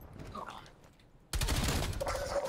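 Rapid automatic gunfire from a Call of Duty Black Ops Cold War match bursts in loud and sustained halfway through, following quieter game ambience with some faint voices underneath.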